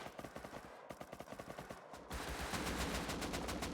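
Rapid video-game gunfire in a tournament match: quick repeated automatic shots in a steady rhythm, shifting into a dense, continuous roar of overlapping fire, close and loud.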